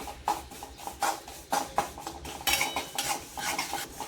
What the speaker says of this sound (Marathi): आणि थोडंसं मग खजूर त्याच्यात परतून घ्यायची.